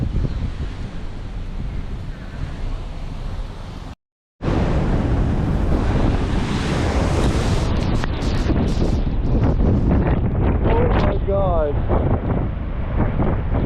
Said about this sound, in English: Look at the waves.